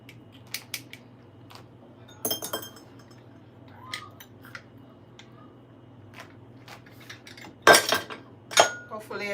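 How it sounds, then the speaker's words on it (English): A fork twirled inside a lemon to squeeze out its juice for Caesar salad dressing gives sparse, light clinks and taps of metal against fruit and bowl, close by, with quiet pauses between. "you could use a fork and just twirl it to get all the juice out"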